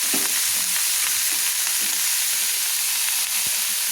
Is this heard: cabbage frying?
yes